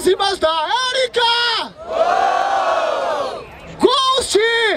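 Crowd at a Barueri rap battle, the 120th Batalha da Aldeia, roars and whoops loudly for a battler's rhymes, a sustained swell of cheering framed by shouted hype from the host before and after.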